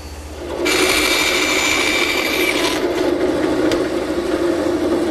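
A table saw cuts tenon shoulders on chair stretchers for a Morris chair: a motor hum rises into a loud, steady cutting whine for about two seconds, then the saw runs on at a lower drone.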